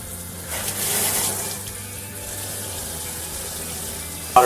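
Water running from the faucet diverter of an alkaline water ionizer, a steady moderate stream splashing into a sink, with a brief surge near the start and a clatter at the end.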